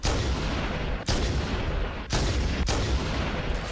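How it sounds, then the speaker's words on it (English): Repeated gunfire in Halo CE: dense, continuous bursts of loud shooting with a few sharp separate shots cutting through, no talk. "how many shots does it take to blow one of those cunts up?"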